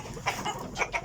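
Backyard chickens cluck in short bursts close by before feeding, alone and with no talk over them.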